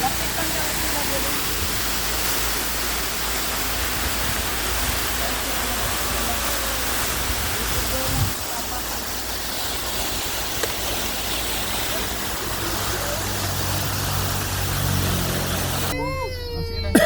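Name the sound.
waterfall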